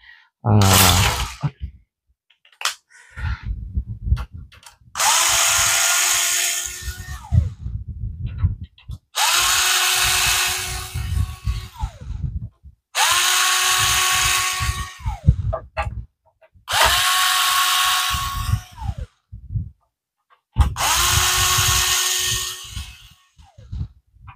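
Power drill unscrewing screws from the back panel of a device, running in five long loud bursts with rising and falling motor pitch, separated by short pauses and faint handling clicks.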